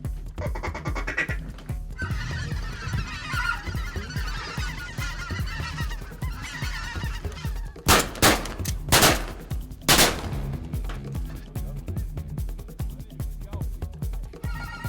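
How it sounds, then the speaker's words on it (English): A flock of white-fronted geese honks overhead at a duck hunt, calls layered and overlapping, with a few loud sharp gunshot-like bangs partway through. "flushed a whole flock of speckled bellies, and they flew right over the blind"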